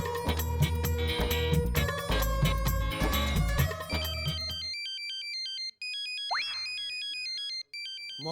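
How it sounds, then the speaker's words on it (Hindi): A mobile phone ringtone sounds in a school classroom during an exam, first under loud comedic background music, then alone as a clear repeating electronic melody, with a brief swooping effect partway through. "ये किसका मोबाइल बजा?"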